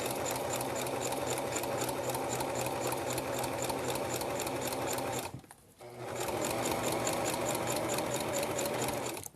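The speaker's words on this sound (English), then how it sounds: "you're just going to sew straight on that line" A sewing machine stitches a straight line across fabric for a hot pad, a loud, fast, even mechanical whir close by that briefly stops and then starts again.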